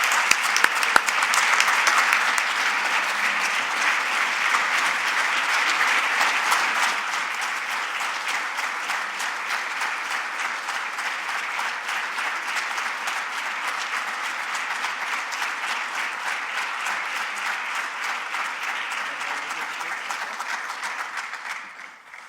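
Sustained applause from an audience greets Nebraska's new athletic director Troy Dannen and his family, dense clapping that holds strong for over twenty seconds before tapering off at the end.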